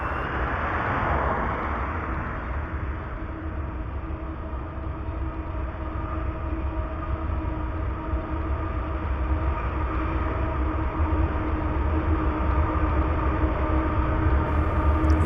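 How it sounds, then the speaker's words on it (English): A distant train passing through overgrowth near Shreveport: a steady low rumble and rolling drone that holds through the whole stretch, faint and far off, with no talk. "You can just barely see the train in the overgrowth in the distance."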